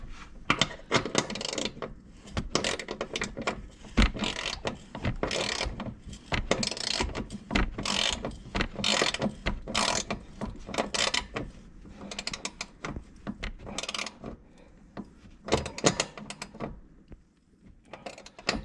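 A hand socket wrench ratchets in quick clicking bursts while a 13 mm exhaust bolt is tightened on a 2020 Can-Am Outlander 650 XMR ATV, dense repeated metallic clicks close up with a few pauses.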